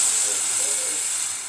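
Kadhi batter hits a hot pan on low gas, giving a loud, steady steamy hiss close by that fades slightly toward the end.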